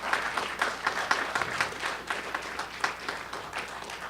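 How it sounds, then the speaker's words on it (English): An audience claps for the candidates at a town forum, with steady, dense applause and scattered individual claps filling the hall for a few seconds. "Please give another round of applause to our candidates."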